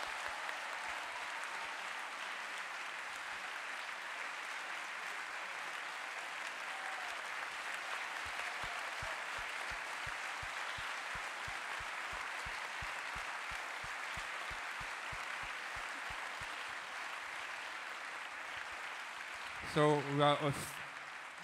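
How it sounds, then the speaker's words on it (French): Sustained audience applause at an awards ceremony for a young conductors' competition finalist in Besançon, a steady wash of many hands clapping throughout, with a brief louder burst near the end. "Il faut vraiment qu'on fasse un grand applaudissement pour Hailey"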